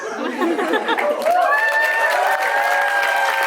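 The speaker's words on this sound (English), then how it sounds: "a massive round of applause" A wedding crowd claps steadily with some cheering and chatter, while a sustained musical tone rings out over the applause.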